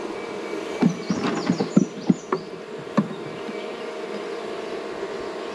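Honey bees buzz in a steady hum while frames are moved into a permanent hive box, with a cluster of sharp wooden knocks and taps near the start.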